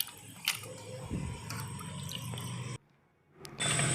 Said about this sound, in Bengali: মাংসটা ধুয়ে নেওয়া হচ্ছে পরিষ্কার করে